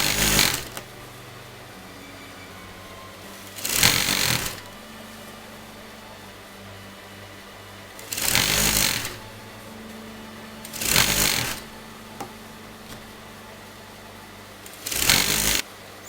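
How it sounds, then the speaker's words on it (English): A sewing machine runs a straight stitch along a double-folded fabric edge in five loud, rapid bursts of a few seconds each, separated by quieter stretches with a low steady hum. "you're going to just sew that together"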